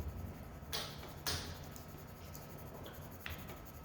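Pencil held loosely and scratching small shading lines on a sketchbook page, a few soft close strokes with brief papery swishes separated by quiet pauses, faint and alone.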